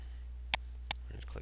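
Two sharp computer mouse clicks a third of a second apart, close and quiet over a steady low hum, followed by faint movement noise.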